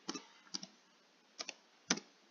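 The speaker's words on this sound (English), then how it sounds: "what I'm typing" Typing on a computer keyboard, heard as four short bursts of clicking keystrokes spread across a couple of seconds, close and fairly quiet, with no voices.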